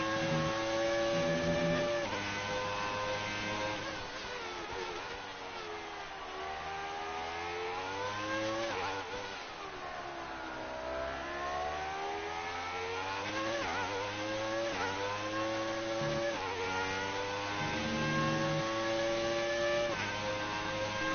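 A race car engine in the F1 2019 video game revs up and down through gear shifts on a final lap at Silverstone, a steady high whine rising and falling in repeated sweeps.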